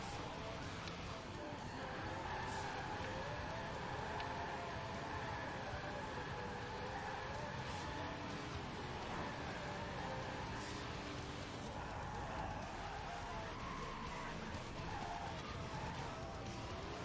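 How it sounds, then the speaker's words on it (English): A Firebird car drifts in Forza Horizon 4, with continuous tire skidding and engine roar sustained steadily for the whole stretch, fairly quiet overall. "It works, Stallion just keeps drifting."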